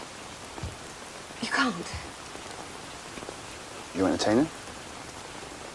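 Steady rain falls outdoors in a period drama set in rural England, a constant wash of patter running throughout, with two short bursts of speech over it.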